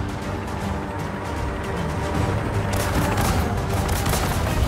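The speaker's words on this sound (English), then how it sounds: "you head down to the turret and start firing away" Turret firing in Skylanders Trap Team, a dense, unbroken barrage of rapid booming shots and crackling impacts that grows louder and brighter partway through.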